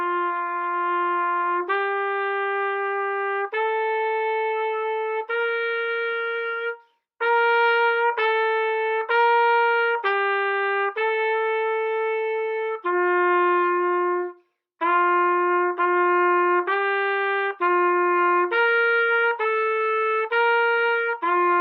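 A trumpet plays the slow largo exercise number 89, sustained clear notes in phrases with two short breaths, close and alone with no talk.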